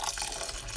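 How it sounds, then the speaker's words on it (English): Hot boiling water poured from a kettle into a pot of rice for fried rice, a steady close splashing pour that runs the whole moment without pause. "I'm going to be adding some hot boiling water from my kettle."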